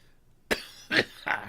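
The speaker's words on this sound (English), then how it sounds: "Got a cough to get off." Three short coughs, close and fairly quiet, spaced unevenly over a second, with silence before the first.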